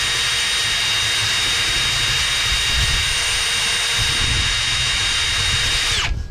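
A drill spins an abrasive pad against a used flywheel to deglaze it, a loud continuous high whir with a rough grinding edge that holds steady for several seconds before winding down abruptly at the end.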